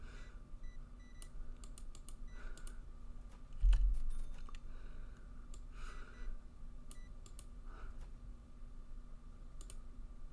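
Numbers are typed on a computer keyboard in short bursts of close, crisp key clicks separated by pauses, with one heavier thump partway through and no talking.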